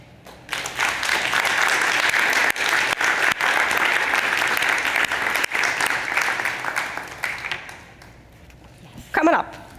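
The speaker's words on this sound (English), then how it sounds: "I would like you to give a warm round of applause" A conference audience at the Ad-Filtering Dev Summit gives a warm, sustained round of applause for two speakers, steady dense clapping that tapers off before a voice speaks briefly at the end.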